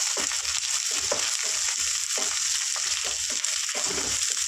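Curry leaves sizzle in hot oil with turmeric in a pan for a broad bean chicken curry, giving a steady, bright crackling hiss with soft stirring thumps underneath, close by and without talk.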